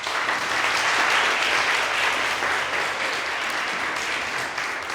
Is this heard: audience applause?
yes